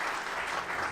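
A brief second of dense audience applause for a panel at a prostate cancer disparities conference, even and fairly loud, no voices.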